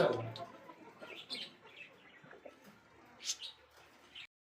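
A pair of magpie pigeons coos faintly amid low murmuring and scattered chirps at a pigeon farm, the soft calls rising and falling before stopping abruptly.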